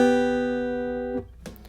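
A root and major third double stop on acoustic bluegrass guitar in G position rings on from the start, decaying smoothly, then is cut off, followed by a couple of faint string or handling noises.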